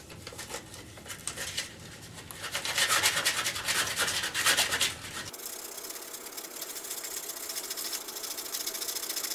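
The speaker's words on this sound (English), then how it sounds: "I got some sandpaper here. I'm going to start to sand off the epoxy." Sandpaper rubs back and forth over a guitar to remove epoxy glue residue, producing rapid gritty scratching strokes that grow louder in the middle. The scraping stops abruptly before a quieter steady hiss takes over, with no speech.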